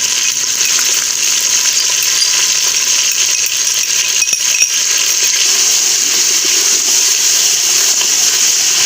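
Onions fry in oil with ginger, garlic and green chili paste for a dal chawal lunch, giving a steady, bright, continuous sizzle with faint crackles throughout.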